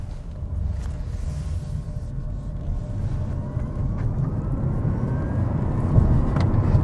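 A 2023 Toyota Prius Prime plug-in hybrid pulls away in sport mode, giving a steady low rumble with a thin electric whine that slowly climbs in pitch as it gathers speed, growing gradually louder with no talking.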